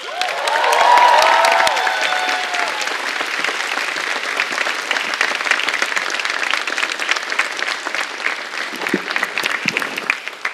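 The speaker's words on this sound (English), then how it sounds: "please do give a huge round of applause to our mentor, supporter, friend, and conductor" A concert audience applauds the conductor, Mr. Jason Kishander, at the Magnificat 2017 event on the BGR Campus: loud, sustained clapping from a large crowd that swells early, then holds steady, with a few scattered cheers.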